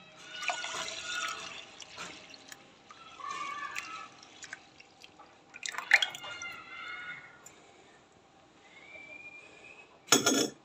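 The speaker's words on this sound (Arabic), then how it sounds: "زي ما انتم شايفين هبدأ بقى انزل عليه باللبن" Milk poured over rice in a baking tray, a soft liquid trickle with scattered drips and splashes, fairly quiet and close, ending in a brief louder splash.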